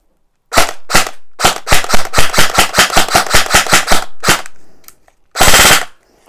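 An SRC Falcon airsoft gun fires a rapid string of about fifteen sharp, loud, close cracks in an even rhythm, then a pause and a short burst of full-auto fire.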